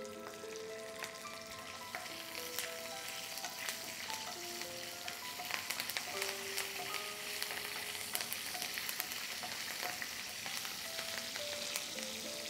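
Curry leaves and fennel seeds fry in oil for black pepper prawns, with a faint, steady sizzle, scattered crisp pops and occasional stirring, and no talk throughout.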